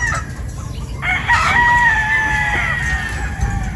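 Boston Roundhead pullets in a pen of about sixty birds, with a clear crow rising over steady clucking and background hum, close and loud.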